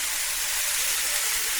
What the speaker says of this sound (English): See the sizzle of the garlic